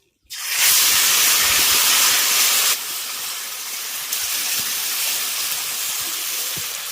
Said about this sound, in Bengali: তেল গরম হয়ে গেছে এর মধ্যে আমি এই মাছগুলো ছেড়ে দিচ্ছি